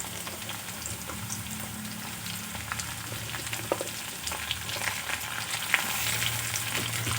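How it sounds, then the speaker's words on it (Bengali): Cauliflower florets and potatoes frying together in a pan, a steady close sizzle and crackle running throughout, with occasional scraping and stirring knocks and no talking. "ফুলকপিগুলো আলুর সাথে কিছুক্ষণ ভেজে নেব।"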